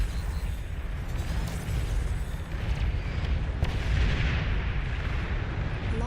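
Long-range plasma cannon fire in the strategy game Beyond All Reason: repeated heavy booming shots and rumbling impacts layered over a constant low battle roar, several distinct blasts in a few seconds.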